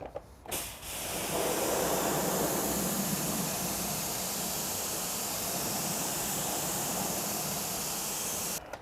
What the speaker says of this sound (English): I'll grab my torque snubby and I'll just rinse on the face of the wheel